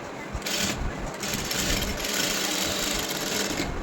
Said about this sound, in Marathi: हा अस्तरच्या भागाला आपण अशी शिलाई देतो